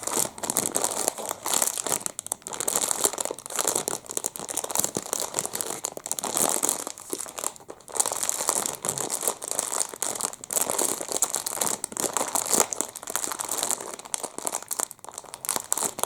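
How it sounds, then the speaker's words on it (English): A crinkly wrapper is crumpled and handled continuously up close, giving a dense, loud crackling that runs steadily for the whole stretch without speech. "I did add some crinkly sounds now because some of the patients feel crinkly sounds can help them relax and feel more calm"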